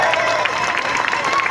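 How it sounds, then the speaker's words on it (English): A crowd at an outdoor counter-demonstration applauds a speaker, a busy wash of clapping with a few cheers mixed in, fairly close and sustained, with a voice talking over it. "Another massive round of applause for Sharifah"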